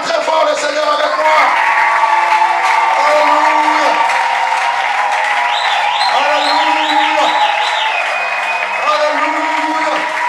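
Church congregation loudly acclaiming the Lord, a sustained wash of cheering and whooping voices with clapping, steady and full throughout alongside music.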